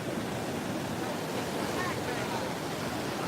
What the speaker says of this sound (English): How much longer do you think it'll possibly stand up to these waves constantly beating into it?